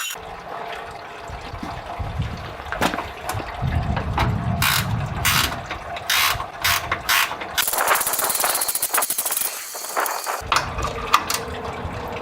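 A ratcheting tool clicks in quick bursts while loosening the radiator petcock on a Fox Body Mustang, with rattling metal and some dripping water, close by.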